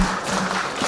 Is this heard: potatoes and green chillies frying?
no